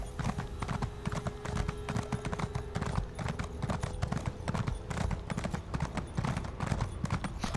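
Hooves of a zombie horse clop rapidly and continuously in a video game, a fast galloping rhythm of muffled thuds with a faint steady tone beneath, close and even throughout.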